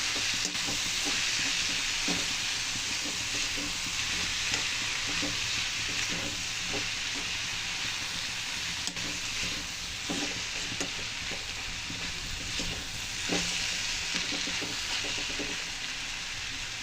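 Sorrel leaves (chukkakura) stirred in a frying pan for a tomato curry, a continuous sizzling hiss with intermittent scraping and clinks of the spoon against the pan, steady and close with no voices.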